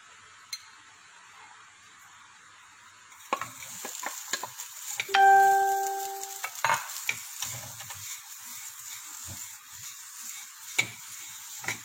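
Sausages sautéed in a pan for a chicken sausage pizza topping, a soft steady sizzle with scattered clinks and scrapes of stirring, one brief tonal beep midway, fairly faint and close.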